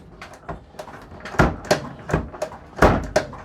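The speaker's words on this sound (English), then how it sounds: "this is a notorious Electrolux drawer that never likes to stay closed" An Electrolux washer drawer that won't stay shut pops and thumps, a string of close, moderately loud knocks and clunks, with two sharper impacts standing out among the handling noise.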